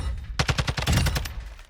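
Automatic weapon fire in the video game Warzone 2, a rapid burst of about ten sharp, loud shots in quick rhythm, followed by a brief tail as the firing stops.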